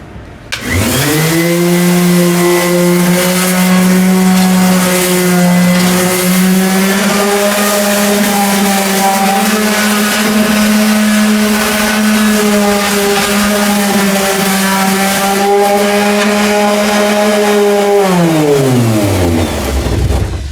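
A loud Ryobi power sander whirs at a steady pitch for a long stretch on a Cadillac trunk, then winds down as its motor spins to a stop.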